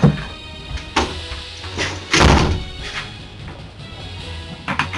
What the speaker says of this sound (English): Closing my door.